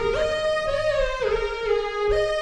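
Bright synth lead preset from the Sky Keys plugin plays a few gliding, harmonically rich notes with pitch slides between them, loud and close with no voices.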